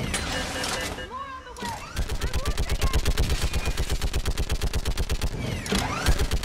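Rapid turret gunfire from Mass Effect 3 on Thessia, a steady stream of evenly spaced loud shots for most of the stretch, preceded by other game sounds and brief voice.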